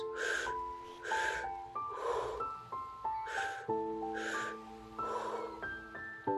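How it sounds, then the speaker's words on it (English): Breathwork breathing, drawing in through the belly and chest and out through the mouth: about six rhythmic, audible breath cycles, close but soft, over a quiet sustained musical backdrop. "Breathing in through the belly, in through the chest, exhaling through the mouth."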